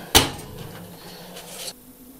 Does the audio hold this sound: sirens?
no